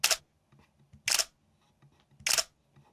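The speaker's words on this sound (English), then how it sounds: "These were just little shutter effects." Camera shutter sound effect firing three times at even intervals of about a second, each a crisp, bright snap followed by a short mechanical tail, with no talking.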